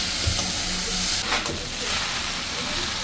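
Purple cabbage stir-fries in a hot pan with a loud, steady sizzle and hiss, broken by scraping stirs partway through, while someone speaks briefly.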